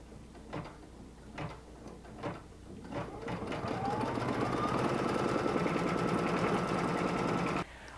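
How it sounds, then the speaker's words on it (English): An embroidery machine stitches the final step of a zipper pouch held in a hoop; a few separate clicks and thumps come first, then a steady, close, rapid mechanical whirr of stitching runs for several seconds and stops abruptly. "we'll flip the hoop over and place it in the machine for the final stitch"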